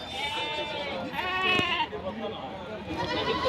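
Sheep and lambs bleat in quavering, overlapping calls at the Kenda sheep market in Haveri, close and lively amid the crowd, with people talking throughout.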